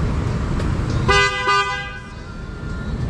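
A motorcycle horn, part of a rider's add-on setup with a top box and bracket, gives two short harsh toots about half a second apart, loud over steady road and engine noise.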